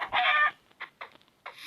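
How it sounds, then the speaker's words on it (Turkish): A loud burst of Minecraft chicken clucking opens, followed by a few quieter, scattered clucks and a final squawk, with no talking. "Burada tavuk çok."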